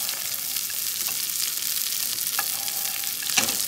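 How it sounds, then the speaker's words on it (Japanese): Breaded sardine frying in a pan of hot oil over medium-low heat while oil is spooned over its head, a soft continuous sizzle with faint spoon clinks, no voices. "アロゼしながら頭にも火を通していきます。"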